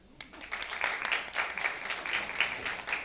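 Applause from a comedy festival crowd answering a stand-up comic's question, a steady wash of scattered clapping at moderate distance lasting a few seconds with no talk over it.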